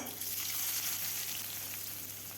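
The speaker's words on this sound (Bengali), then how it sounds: "পেঁয়াজটা কিছুক্ষণ ভেজে নেব যতক্ষণ না বাদামি কালার হয় ততক্ষণ আমি ভাজতেই থাকব" Onions with a dried chilli sizzle steadily in hot oil left from frying pointed gourd, a constant crackling hiss close up with no talking.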